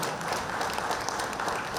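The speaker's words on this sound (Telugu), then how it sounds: "శాకాహారాలకు వచ్చిన మాస్టర్స్ అందరికీ చప్పట్లు." Applause from an audience at a vegetarian rally gathering in Sangareddy, a steady wash of many hands clapping at once, sustained and fairly even, with no clear voices standing out.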